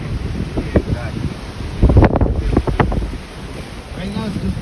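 Wind gusting through drizzly weather in a flooded Florida neighborhood after Hurricane Ian, a steady blustery rush with buffeting against the microphone and people talking briefly in the middle.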